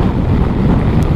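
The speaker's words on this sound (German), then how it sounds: "der Windfluss hier von der Scheibe, das ist ja schlimm." Wind rushes and buffets off the windshield of a NERVA EXE 9 kW electric scooter, 2022 model, during a test ride. It is loud, steady and close to the microphone, filling the whole clip.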